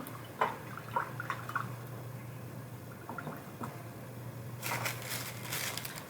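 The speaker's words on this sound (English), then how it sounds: "I'm going to rinse my brush out" A paint brush being rinsed in a water pot, with soft dabbing, swishing and clinking against the container, then a brief burst of splashing near the end, close and faint over a low steady hum.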